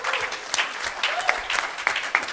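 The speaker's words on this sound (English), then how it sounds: "A round of applause for that story." Seminar audience giving a round of applause, a steady mid-level patter of many hands clapping with sharper individual claps poking through, continuing throughout with no speech.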